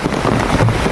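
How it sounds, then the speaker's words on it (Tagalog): Heavy rain pours down steadily, a dense continuous roar close to the microphone with some wind buffeting, with no voices. "Nagmamadali ako kasi sobrang lakas ng ulan."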